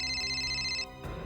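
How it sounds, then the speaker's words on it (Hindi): A telephone rings with a steady electronic tone close by, holding for most of a second before cutting off into a muffled background hum, with no voices. "आप फोन क्यों नहीं उठा रही?"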